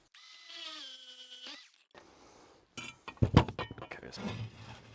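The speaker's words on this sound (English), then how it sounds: "drill a hole first in a piece of scrap" A power drill bores a hole through a piece of scrap tile during a wall tiling job, with a whining spin-up followed by gritty grinding and clinking bursts up close.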